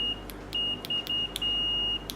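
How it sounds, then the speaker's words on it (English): Latching continuity buzzer of a multimeter sounding in a series of short, high beeps, some clipped and some held longer, with brief gaps between them and no talking. "Again, it is a latching type buzzer"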